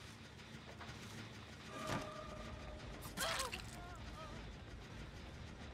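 A generator being repaired in Dead by Daylight: faint, continuous mechanical clanking and creaking with a couple of brief louder metallic bursts, under quiet background ambience.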